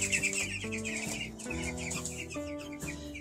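Backyard chickens foraging for bugs out in the grass give a busy, continuous stream of overlapping clucks and soft calls at moderate distance, with no voices.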